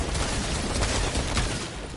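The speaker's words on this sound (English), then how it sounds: "I'm being shot at." Dense burst of rapid video game gunfire in a zero-build match, steady and loud throughout with overlapping shots and no pauses.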